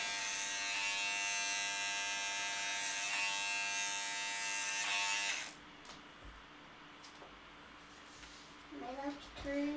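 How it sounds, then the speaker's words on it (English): Electric hair clippers buzz steadily and loudly close by as they cut hair lifted on a comb, then cut off partway through, leaving quiet room tone with a few faint sounds. "just working up with the clipper, straight up the comb"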